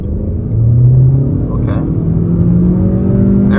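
A 2023 Honda Accord LX pulls away from a standstill under throttle, its engine note rising into a steady, loud in-cabin drone with a low rumble that holds through the launch.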